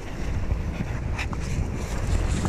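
Gusty wind buffets the microphone on a kiteboarding outing off a peninsula in Turks and Caicos, a steady loud rush with brief surges, with no talk.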